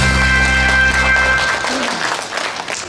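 An audience at a youth festival in a Miryang youth center hall applauds a member of parliament, a dense round of clapping that starts strong then gradually thins out.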